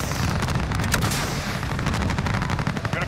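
An aircraft gun run in Call of Duty: Modern Warfare, a sustained, loud stream of rapid automatic cannon fire with dense, rattling bursts and booming impacts continuing throughout.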